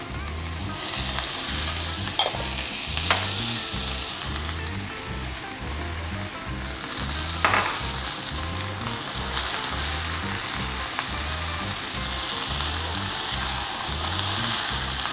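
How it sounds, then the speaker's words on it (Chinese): Diced onion, carrot and celery are stir-fried in a pan for a red-wine braised lamb shank, making a continuous bright sizzle with a steady, rhythmic pulse of stirring and occasional sharper scrapes, with no voices. "就落炆嘅時候嘅三寶：洋葱、紅蘿蔔、西芹。 跟住咧就繼續炒"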